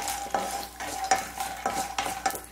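Shredded cabbage mixture sizzling in a pan, splashed with a spoonful of water, while a spoon scrapes and stirs it in regular strokes; close, moderately loud, with no voices.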